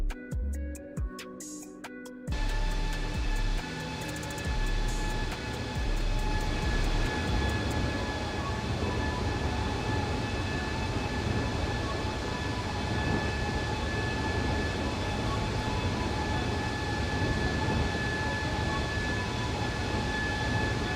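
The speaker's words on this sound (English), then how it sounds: "Absolutely lovely flyby sound." Simulated Boeing 777-200ER flyby in X-Plane 12: after a brief quieter opening, a loud, broad, sustained roar of jet engines with steady whining tones holds for the remaining twenty seconds, without talk.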